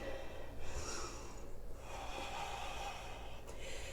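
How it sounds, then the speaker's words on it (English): Slow, deep breaths during a yoga pose, soft airy inhales and exhales drawn close to the microphone, quiet and steady with a faint background hum. "Breathe into it."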